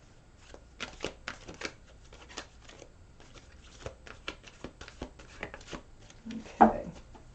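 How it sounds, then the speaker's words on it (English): A fat deck of law of attraction cards being shuffled by hand, a quiet run of soft riffling flicks and taps close up, ending in one sharper slap as the deck is squared. "One more shuffle."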